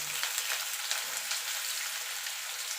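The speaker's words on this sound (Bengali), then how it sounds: "দেখুন বন্ধুরা, তেলটা গরম হয়ে গেছে। এবার পেঁয়াজটা দিয়ে দেবো।" Onions frying in hot mustard oil, giving a dense, even sizzle with light crackles throughout at close range; no talking.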